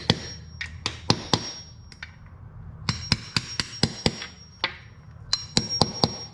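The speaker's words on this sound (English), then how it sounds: "I like to take a socket and a hammer and kind of tap down these just a little bit." Sharp metallic hammer taps on a socket seating valve parts on a Honda Element K24 engine, in quick bursts of several strikes separated by short pauses, close and ringing.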